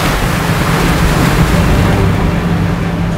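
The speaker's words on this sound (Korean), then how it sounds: "그런데 파도의 움직임이 예사롭지 않습니다." Rough sea waves surge and wash around a yellow croaker fishing boat before dawn, a loud, constant roar of surf and wind noise close to the microphone.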